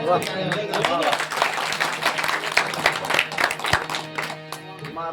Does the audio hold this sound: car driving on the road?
no